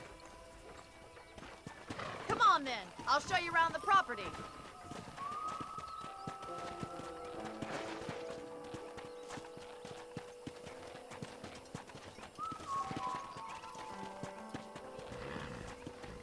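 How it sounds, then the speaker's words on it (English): A horse in the Red Dead Redemption video game clip-clops along with a burst of hoofbeats and a whinny, followed by faint ambient game sounds while someone speaks. "I picked out a fine horse for you."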